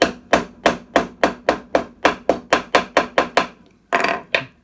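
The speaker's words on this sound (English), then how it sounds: "I'm going to lightly tap this using the old rough made hammer mallet." About fifteen evenly spaced taps from a rough homemade hammer mallet driving a bearing in, sharp and close, in a steady rhythm with a short pause before two final knocks.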